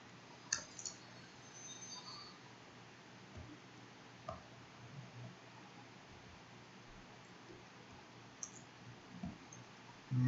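A few sparse, sharp clicks scattered over a quiet hiss, small and close, with long pauses between them.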